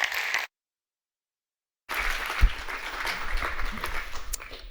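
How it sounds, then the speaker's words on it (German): An audience claps at a general assembly of an association in Bavaria: a brief burst of applause cuts to silence, then a steady wave of clapping returns with one louder thump, moderately loud and close. "Kaffeetasse aus der Hand und klatschen."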